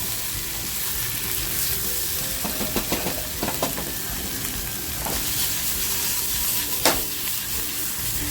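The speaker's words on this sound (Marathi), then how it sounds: "आणि आपल्याला आहे ना हलक्या हाताने छान फ्राय करून घ्यायचे" Wet Bombay duck fish frying in a pan with chilli, giving a constant close sizzle with scattered crackles and a few sharp spatula taps, no voices.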